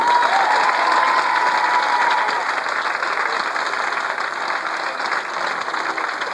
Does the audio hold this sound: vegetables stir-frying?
no